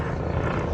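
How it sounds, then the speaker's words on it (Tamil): A helicopter flying overhead in a desert village area of Abdali, Kuwait, gives a steady, dense rotor and engine rumble that holds constant and fairly close throughout the short stretch. "பாருங்கள், ஒரு ஹெலிகாப்டர் வந்துட்டுருக்கு."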